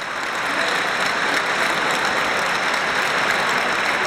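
Home crowd at a Sestu basketball game applauds as an injured player is carried off the court, a loud, dense and steady wash of clapping from many hands filling the arena.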